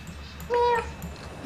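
A man imitates a cat with one short, nasal meow, close and brief, with a steady low hum behind it.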